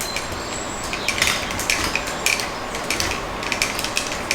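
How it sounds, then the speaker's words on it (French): An Amazon monitor arm mount is loosened, giving a series of sharp metallic ratcheting clicks over a low background rustle, close and fairly loud. "faut que je desserre là pour pouvoir la repousser un petit peu là"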